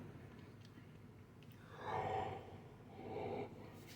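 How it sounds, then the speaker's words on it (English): A breathy, drawn-out yawn swells and fades, followed by a shorter second exhale, quiet and close, with no words spoken. "this yawning's getting on my nerves"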